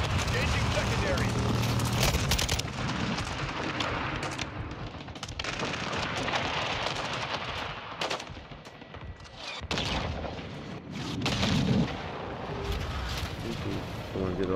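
Helicopter gunship air support fires into a Modern Warfare 2 battle, with dense, sustained gunfire and heavy impacts roaring almost continuously, while voices talk over the din.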